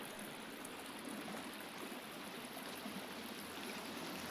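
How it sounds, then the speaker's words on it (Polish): Steady rushing water from a waterfall in The Forest video game, a dense continuous broadband roar that holds evenly throughout with no talk over it. "Słyszę wodospad."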